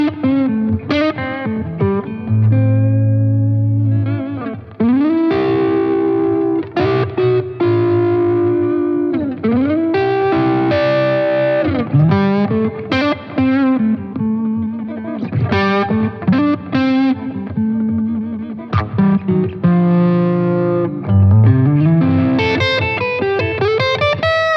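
Donner DLP-124S Les Paul-style electric guitar played through distortion with chorus-like effects, a continuous run of sustained chords and lead lines, loud and close, with no talking.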